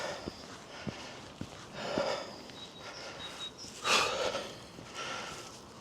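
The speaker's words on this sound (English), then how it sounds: "You'll tell how hard it gets by the heavy breathing." Heavy, labored breathing on an uphill countryside walk in Kent, with audible puffs and sniffs close to the microphone alongside scattered footsteps on the path.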